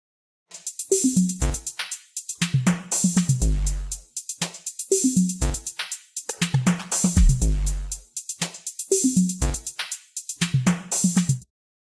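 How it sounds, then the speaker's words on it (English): Punchy drum machine beats with booming 808 kicks, snappy hits and crisp hi-hats play in a repeating pattern over several bars. "Right, the 808 sounds."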